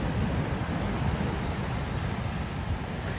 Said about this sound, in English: The waves are pretty big today too.